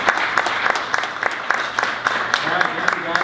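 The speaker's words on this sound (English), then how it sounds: "Let's give them another round of applause and thank them for everything." A crowd at a Youth in Government council meeting claps for the students in a dense round of applause, with individual sharp claps standing out over the steady wash.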